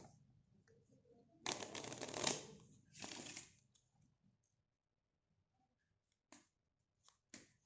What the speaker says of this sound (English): so first you may hand over the deck to the spectator so that he may shuffle it.